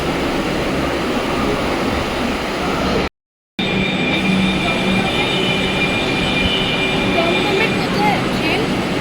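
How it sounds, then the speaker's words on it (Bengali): Metro train ride in Kolkata heading toward Dum Dum: a steady, loud rumble of the carriage with broad wheel and track noise throughout, briefly cut out for a moment, with faint high whining tones over the roar. "এখন মেট্রো ধরে দমদম পর্যন্ত যাব"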